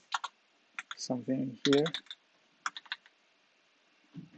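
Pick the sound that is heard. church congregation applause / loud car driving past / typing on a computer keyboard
typing on a computer keyboard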